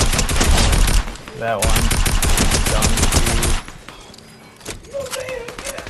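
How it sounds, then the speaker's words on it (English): Tactical rifle fire in the Fortnite video game: loud rapid bursts of gunshots over the first few seconds, then quieter in-game noise, with someone talking over the shooting. "We got the tactical rifle."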